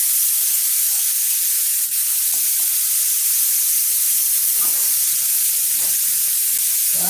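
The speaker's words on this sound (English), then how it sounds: "hear the spray guns going off" Spray guns hiss continuously indoors, a loud, close, steady airy spray that fills the whole stretch, with faint bumps and movement in the background and no talk.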